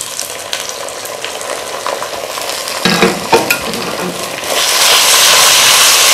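Two tablespoons of garlic and one of ginger sizzle in hot oil for Punjabi kadhi pakora while a utensil stirs and scrapes the pan, the frying hiss swelling louder toward the end.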